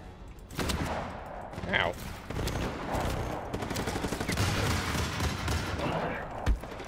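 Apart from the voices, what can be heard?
machine gun fire in the video game Just Cause 3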